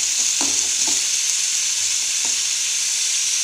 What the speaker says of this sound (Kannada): ಚೆನ್ನಾಗಿ ಹುರ್ಕೊಳ್ಳೋಣ